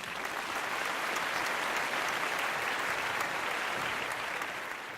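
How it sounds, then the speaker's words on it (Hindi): Loud, dense applause from a large audience at a company gathering, continuous even clapping sustained throughout with no pauses. "जोरदार तालियां इनके लिए।"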